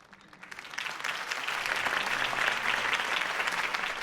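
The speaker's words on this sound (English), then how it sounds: "could have heard that applause" A crowd applauds steadily in the video game Batman: The Telltale Series, the clapping swelling in the first second and then holding at a dense, even level.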